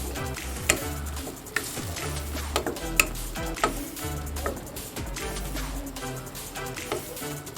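Chicken fries in a pan with ground coriander, cumin, chili and turmeric, quiet sizzling broken by sharp scraping and tapping strokes of a spoon stirring it, uneven and close.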